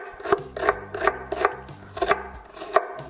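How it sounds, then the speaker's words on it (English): A knife chops an onion on a cutting board in quick, even strokes, about eight sharp close taps over a few seconds, with no talking. "I'm just going to mince this up pretty small"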